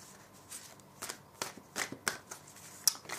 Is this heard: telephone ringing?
no